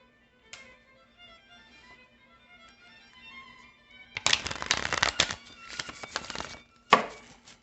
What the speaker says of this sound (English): I'm just gonna shuffle these first and just see what they talking about.